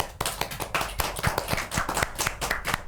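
Studio audience at an Indonesian parenting talk show breaks into steady, brisk applause, many hands clapping continuously and fairly close throughout.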